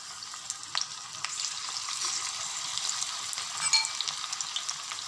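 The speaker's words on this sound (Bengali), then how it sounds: "আমি ছোট ছোট করে বড়াগুলোকে এর তেলের মধ্যে দিয়ে দেবো" Prawn fritters made from a spiced prawn batter sizzle steadily in hot oil in a Bengali kitchen, a continuous bright crackle with small popping bursts, close and alone without talk.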